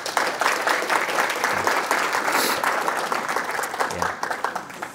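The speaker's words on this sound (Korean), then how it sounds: "박수 한번 쳐드리십시오" Congregation clapping at a church family retreat worship service, a dense burst of applause that rises and holds, then thins slightly toward the end, with some voices mixed in.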